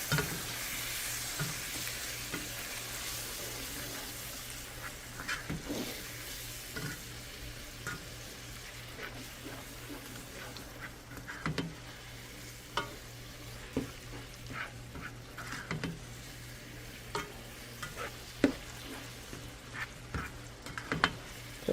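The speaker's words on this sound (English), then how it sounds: "Mix that in with the meat." A spatula stirs browned hamburger meat and taco seasoning in a hot pan, soft sizzling throughout with irregular scraping clicks and taps, close and quiet with no speech.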